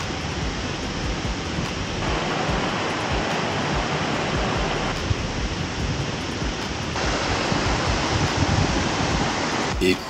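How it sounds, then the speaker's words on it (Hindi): Waterfalls on three sides of a wild camp spot at Blaen Y Glyn, a loud, constant broadband rush of falling water that fills the scene without pause. "एक खूबसूरत सा स्पॉट ढूंढा जहां मेरे तीनों तरफ झरने थे।"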